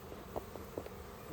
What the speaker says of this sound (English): I got a bee going nuts on me.